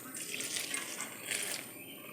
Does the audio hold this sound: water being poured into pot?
yes